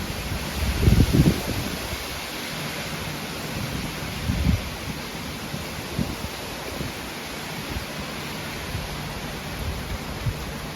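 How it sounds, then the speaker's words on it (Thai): Heavy rain falls steadily on a garden with gusting wind, a dense constant hiss with a few low rumbles of thunder near the start and middle. "ฝนมาเยอะแล้วค่ะ"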